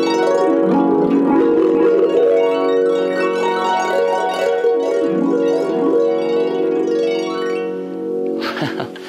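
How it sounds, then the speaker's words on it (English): Fingers sweep across all the strings of a harp in a glissando, producing a rich, ringing wash of overlapping tones that rises and falls and lingers for several seconds before fading. "That's called a glissando when you run your fingers over all the strings, and it sounds like this."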